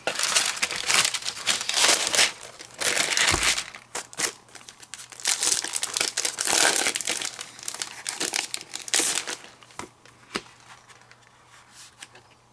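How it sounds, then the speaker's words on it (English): Paper pack from a Spellbinders card making kit being opened, with loud, close crinkling and rustling of paper in repeated bursts, then softer, sparser crackles toward the end. "the paper pack that we will open right now"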